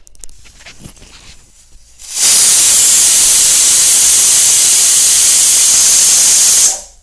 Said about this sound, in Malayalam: ആ ഒരു വിസിൽ വന്നു ഇനി നമുക്ക് സ്റ്റൗ ഓഫാക്കാം